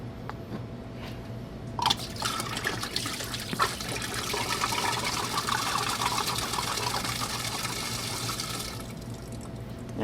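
Peach schnapps glugs and trickles steadily out of a liter bottle into a container for homemade moonshine, a continuous close pouring stream lasting around seven seconds over a low background hum.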